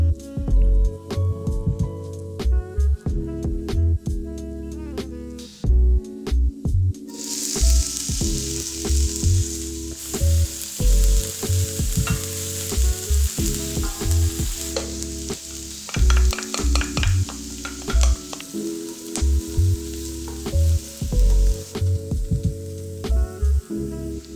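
Continuous sizzling of onions and garlic frying in a hot pan, with intermittent scraping and stirring clatter of a utensil against metal throughout, no talking.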